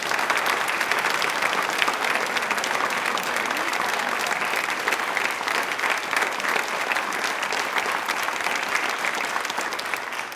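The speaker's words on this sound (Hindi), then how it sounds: "अपने लिए फिर एक बार जोरदार ताली बजा दीजिए भी" A large audience at a quiz event marking Birsa Munda's birth anniversary claps loudly in a sustained, thick wash of applause that holds steady without pause.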